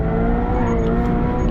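Subaru BRZ or Toyota GR86 with a clutch-type limited-slip differential drifting on a race track, its engine holding a loud, steady high-revving drone as the tires slide at a big slip angle.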